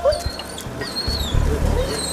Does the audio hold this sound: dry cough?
no